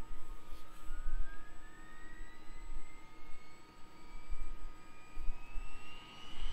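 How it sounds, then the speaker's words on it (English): A Chinook CH-47D helicopter in Microsoft Flight Simulator starts its number one engine, a turbine whine rising steadily in pitch over a rumbling, fluctuating background, moderately loud and with no voices. "we'll take our engine start switch and go to number one"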